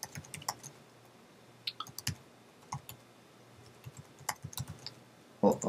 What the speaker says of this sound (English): I'm typing this out